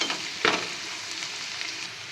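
Onions frying in a pan for street-style pav bhaji, a soft continuous sizzle with a brief clatter of stirring near the start, close and fairly quiet with no talking.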